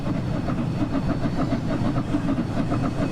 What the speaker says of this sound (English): Ah, there goes the train